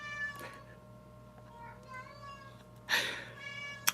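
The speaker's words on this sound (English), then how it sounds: "Now he's just gonna meow." A cat meows repeatedly indoors, a few short cries spread across the stretch with a sharper, louder yowl near the end, over a low steady background hum.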